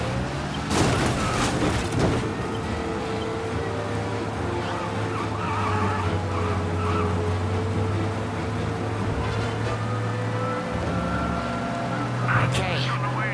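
A car in Mafia: Definitive Edition drives fast with a steady engine drone and repeated tire squeals and skids, mixed with game effects and occasional character dialogue.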